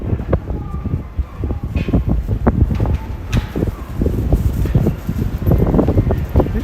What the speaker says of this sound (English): Now it's super windy here again.